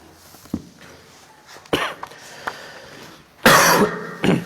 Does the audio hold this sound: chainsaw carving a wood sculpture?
no